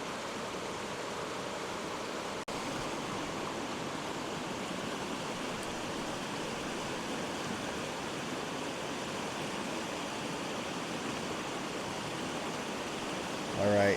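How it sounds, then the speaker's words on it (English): A river rushes steadily past with a small creek flowing in across from it, a constant broadband wash of moving water at moderate distance, unbroken for the whole stretch apart from a faint click early on. "the river's flowing from left to right here, but there's also a small creek directly across that's flowing into it"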